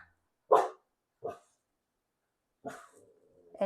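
A puppy barks in three short, sharp bursts spaced apart, the last one trailing into a brief whine, fairly close and loud, with no talking over it.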